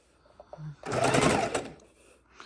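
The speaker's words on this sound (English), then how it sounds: "We're going to sew corner to corner." A longarm quilting machine stitches fabric corner to corner, a quiet rattle followed by a loud burst of rapid needle chatter lasting under a second before stopping, close up with faint background between.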